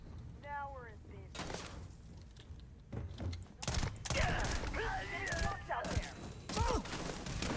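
Shotgun fire in the video game Starfield, several loud blasts in quick succession mixed with game effects and someone talking over the action.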